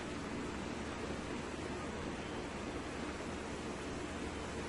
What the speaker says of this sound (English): So the last set is frying up here nicely.